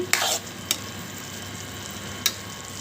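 Tomatoes and green chillies cooking in a pan for a village-style chutney, a soft steady sizzle with a few sharp clicks of a spoon against the pan.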